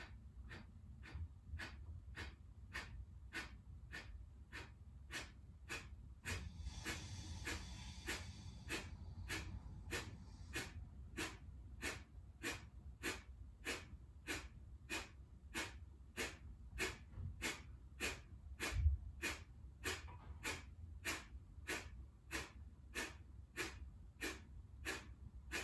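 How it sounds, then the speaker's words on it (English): Short, sharp nasal exhales from a breathing exercise repeat in a fast, steady rhythm of about two per second. They are close and fairly quiet and run without pause, with no talk. "Take a partial inhale in. Short, sharp exhales."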